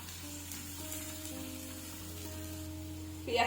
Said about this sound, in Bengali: এটাকে আমরা খুব ভালো করে ভেজে নেব, বেরেস্তার মতো করে নেব।